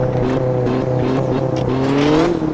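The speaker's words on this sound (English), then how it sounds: "Generally, we're using a rally car right now to recce the stages" Rally car engine running loud and close at steady revs on a recce stage, a continuous drone with a slight rise in pitch near the end and faint tyre noise.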